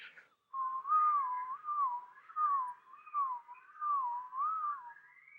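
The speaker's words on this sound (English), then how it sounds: "make you whistle from a low note to a high note" A single person whistles alone, a wavering tune gliding up and down between low and higher notes, ending on a rising pitch.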